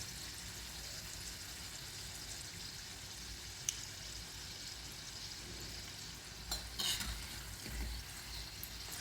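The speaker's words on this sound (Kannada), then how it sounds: "ಈ ಥರ ಫ್ರೈ ಮಾಡ್ಕೊಳ್ಳಿ." Vegetable spring rolls fry in oil with a soft, constant sizzle, quiet overall, broken by a few brief utensil clinks and scrapes near the end.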